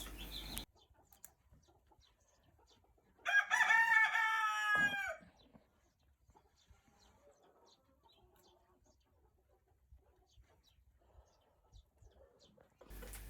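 A single loud rooster crow rings out nearby, long and strained, followed by a quiet stretch of faint farmyard sounds.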